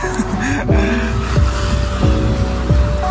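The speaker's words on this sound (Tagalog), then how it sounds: "Uy, may motor." A motorcycle engine passes on a steep road through open grassland, its loud whine repeatedly rising and then dropping in pitch over a constant outdoor rumble.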